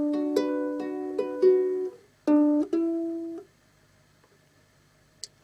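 A ukulele plays a plucking pattern for a song, with clean single notes and short arpeggiated figures ringing in two phrases, then fading to near silence with one faint tap near the end.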